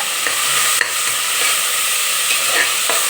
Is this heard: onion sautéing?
yes